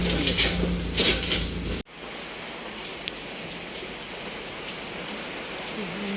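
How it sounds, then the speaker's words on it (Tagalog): Heavy rain pouring during rising floodwater: a loud, steady, hissing downpour drumming on surfaces close by, preceded by a brief louder burst of sound at the start. "Sobrang lakas po ng ulan."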